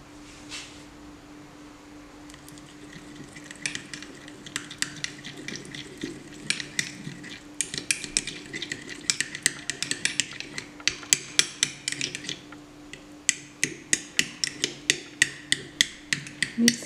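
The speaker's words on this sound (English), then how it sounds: "Mix it and make it smooth." Edible gold leaf mixture with a quarter teaspoon of gold stirred in a bowl, soft scraping at first that builds into quick repeated metallic clinks of the utensil against the dish, close and steady without talk.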